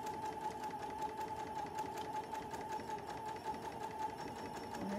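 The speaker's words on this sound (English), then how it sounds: "Now I'm gonna sew on that little line I just drew." A sewing machine stitches steadily across a fabric clutch along a drawn line, a continuous near, even mechanical whir with fine rapid needle rhythm throughout, no talking.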